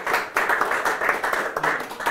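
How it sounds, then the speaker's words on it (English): A small group claps steadily for a couple of seconds, a dense patter of hands at close range with no voices over it. "Everybody give Rob an applause"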